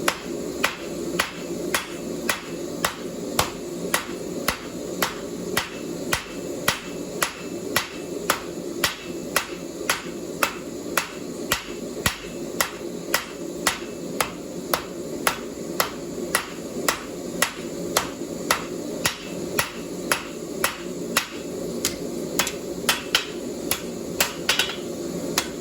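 Blacksmith's hammer striking hot metal on an anvil to spread it, a long run of evenly spaced, ringing blows close up, steady in rhythm with only brief pauses and no talking.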